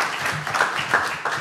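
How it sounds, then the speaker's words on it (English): A college campus audience gives a brief round of applause, a short burst of clapping heard close and fairly loud. "I want to give him a round of applause"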